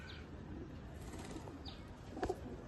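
Pigeons in a loft give soft, faint coos over quiet background rustle, with a short burst of sharper bird sound near the end.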